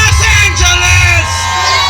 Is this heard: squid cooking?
no